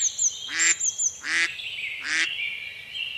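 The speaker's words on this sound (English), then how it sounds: "Mallard duck." A mallard duck gives three loud, nasal quacks spaced about three-quarters of a second apart, close and clear, with faint chirping birds in the background.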